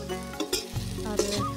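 Tomatoes and salt hit hot oil in a frying pan for a village-style drumstick vegetable curry, a loud close sizzle with stirring scrapes, no talk.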